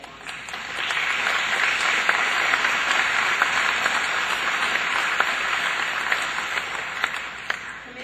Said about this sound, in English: Please join me, students, in a round of applause recognizing the people who have cheered for you